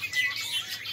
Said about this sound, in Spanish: A lo mejor escuchan los cantitos de los pajaritos